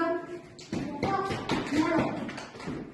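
Preschool children in a classroom clap their hands in a few quick, sharp bursts, heard close by and mixed with children's and an adult's voices talking.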